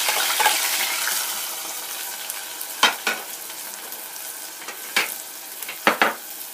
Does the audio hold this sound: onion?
yes